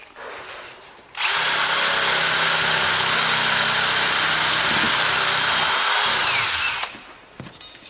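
A power drill whirs loudly and steadily for several seconds, driving left-hand-threaded screws while refurbishing old narrowboat portholes, starting abruptly and winding down, close up with quieter handling noise before and after.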